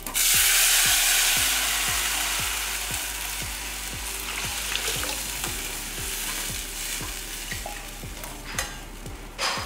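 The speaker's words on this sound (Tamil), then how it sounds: "2 காஞ்ச மிளகாயை கிள்ளி போடுறேன். ஒரு இனுக்கு கருவேப்பிலையில் பாதி போட்டிருக்கேன்." Dried red chillies and curry leaves frying in hot oil over a high flame, a loud close sizzle that slowly eases, with a regular rhythmic scraping of stirring throughout.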